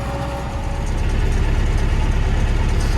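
Diesel engine of an MTZ-82.1 tractor droning while ploughing uneven field ground, a loud, continuous low rumble that swells slightly after the first second and holds steady, with no talk.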